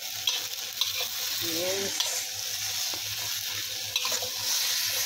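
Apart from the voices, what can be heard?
stir-frying a Chinese dish with parsley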